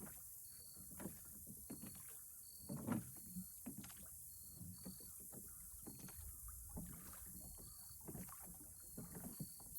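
Oars work a sailboat upriver on the Cumberland, a faint, quiet scene: a dip and a pull about once a second, with splashes and soft creaks over wind noise and without talking.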